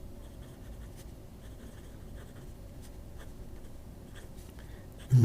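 A Jinhao 100 fountain pen with a medium nib writing Iro Shizuku ink on paper, a faint, close, continuous scratching with light strokes, ending in a sudden louder bump.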